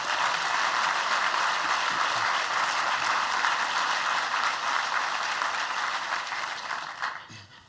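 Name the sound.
applause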